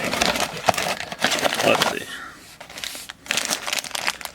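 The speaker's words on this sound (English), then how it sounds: "Plastic bag." A plastic bag from a Bandai Godzilla figure blind box crinkles and rustles up close in bursts, pauses briefly, then crackles again while someone speaks a short phrase.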